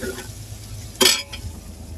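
Green and dry onions stirred into an oily pot of mix while cooking fresh fish on a fishing boat at sea: a low sizzle runs throughout, with one sharp, loud scraping burst of the spoon midway.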